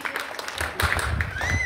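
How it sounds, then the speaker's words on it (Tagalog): A church congregation applauds during a Sunday worship service, a steady wash of many hands clapping with voices and a singer mixed in over it. "Ang buhay na buhay, pumapalakpak para sa Diyos na buhay."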